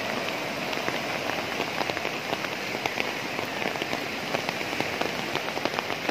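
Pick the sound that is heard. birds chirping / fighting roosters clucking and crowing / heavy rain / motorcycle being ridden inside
heavy rain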